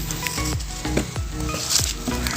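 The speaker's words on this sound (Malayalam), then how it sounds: "ഇടയ്ക്കൊന്ന് ഇളക്കി നോക്കണം, അടിക്കൊന്നും പിടിക്കാതിരിക്കാൻ വേണ്ടിയിട്ടാണ്" Fried rice sizzling in a pan while a spoon stirs it now and then, several soft scraping strokes over a constant frying hiss, close up with no speech.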